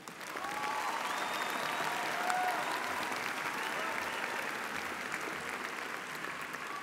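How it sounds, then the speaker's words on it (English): Audience applause for graduates at a graduation ceremony, a steady, dense roar of many hands clapping that swells in quickly and holds at an even level throughout, with faint voices mixed in. "I would like to first ask everybody to give a round of applause to all the graduates."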